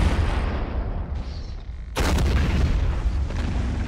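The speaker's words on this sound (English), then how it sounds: "Mobile artillery? They have mobile artillery?" Mobile artillery fires in Men of War Assault Squad 2 during a WW2 battle at Kasserine Pass, with loud rumbling booms, a lull, then a sudden heavy blast and sustained roaring battle noise.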